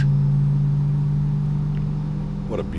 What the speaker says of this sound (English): Listen to those engines, friends.